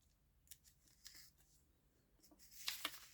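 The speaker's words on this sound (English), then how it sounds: "just cut this piece off" Scissors snipping paper for a Christmas journal, a few faint, short cuts spaced apart with a brisker pair near the end, close and quiet.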